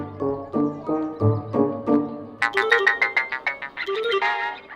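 A phone ringtone plays an electronic melody of bright, repeating tones in short rhythmic phrases, close and clear with no talking over it.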